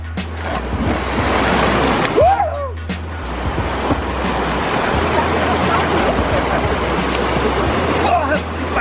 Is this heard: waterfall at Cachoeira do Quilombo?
yes